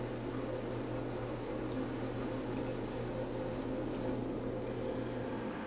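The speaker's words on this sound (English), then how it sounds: "prime the Venturi by pressing the toilet pedestal down fully until the water turns blue" Water rushing steadily through a portable toilet's Venturi as the pedestal is pressed down to prime it, a continuous even flow with a low hum beneath, close and unbroken.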